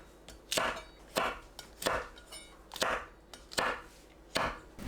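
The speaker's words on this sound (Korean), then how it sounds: "홍고추를 어슷 썰어줍니다." A knife slicing red chili peppers diagonally on a cutting board, seven crisp, evenly spaced chops, close and clear, with quiet pauses between strokes.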